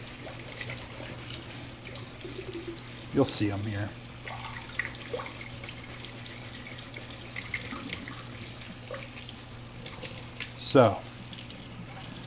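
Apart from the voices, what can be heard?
cold tap water running over fava beans in a colander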